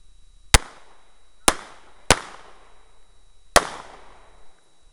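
Four sharp, loud gunshots ring out at a shooting drill aimed at hostage targets, spaced irregularly about a second apart, each with a short ringing decay and no talk between them.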